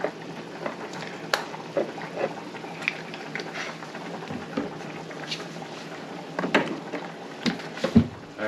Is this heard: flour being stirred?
yes